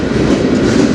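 A CN freight train on the Strathroy Sub rumbles past close by, loud and steady, its wheels rolling on the rails with continuous clatter.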